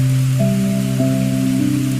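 Steady rain falling, a soft continuous wash of drops under sustained low tonal music.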